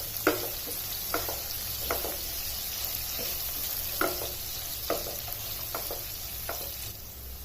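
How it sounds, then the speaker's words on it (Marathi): Green chillies sauté in hot oil with cumin and turmeric, a soft steady sizzle under a string of light spatula taps and scrapes spread across the pan. "मिरच्या थोड्या 2 मिनिट परतवून घ्यायच्या।"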